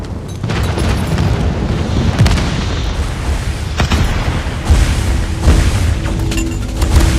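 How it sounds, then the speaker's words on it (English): Heavy booming blasts from a friendly airstrike in a multiplayer shooter game rumble loudly and continuously, with several distinct impacts and crackling bursts layered over the low roar. "Friendly airstrike incoming."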